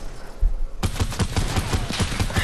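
Rapid video game gunfire aimed at a cone breaks out after a brief quiet moment, continuing as a loud, dense burst of closely spaced shots.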